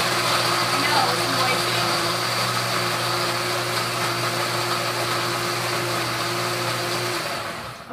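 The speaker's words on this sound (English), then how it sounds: "We're going to turn on the blender and let it get nice and smooth." A blender whirs steadily as it purées soaked almonds with about 1.5 cups of water for homemade almond milk, a loud continuous motor drone with a stable pitch that runs nearly the whole time before spinning down at the end.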